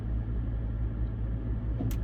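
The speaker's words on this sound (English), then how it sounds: "Oh, that's a truck behind me unloading." A truck unloading close behind the listener, heard as a steady low engine rumble that holds evenly throughout, with a brief faint hiss near the end.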